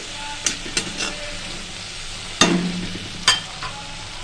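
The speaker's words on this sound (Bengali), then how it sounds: "দেখুন আমার যতক্ষণ না টমেটো পুরো সফট হয়ে যাচ্ছে তখন ততক্ষণ আমাকে এটা একটুখানি ধৈর্য সহকারে ভাজতে হবে" Tomatoes with cumin frying in a pan sizzle under sharp, intermittent clacks of a spoon stirring and scraping, close by with no speech, while softened tomatoes cook for an eggplant and fish-head bharta.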